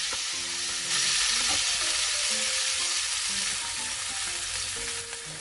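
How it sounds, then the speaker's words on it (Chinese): Fermented black beans stir-frying in a hot wok, a loud continuous sizzle with scraping stirring strokes throughout, close and without speech. "先放入豆豉，把它炒香。"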